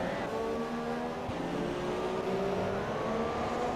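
Renault Formula 1 car racing in the video game F1 2017 at the Bahrain GP, a high, whining engine holding steady with slight pitch shifts, close and continuous, with no talk over it.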